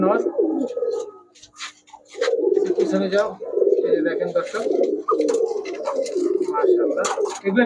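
Close, loud cooing from high-flyer Giribaz pigeons at a pigeon shop, repeated throaty coos in bursts with short pauses between them.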